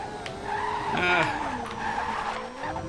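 An F1 car in the racing game RaceCraft drifts and skids, tires squealing continuously over a whining engine whose pitch rises and falls, loud and close for nearly three seconds.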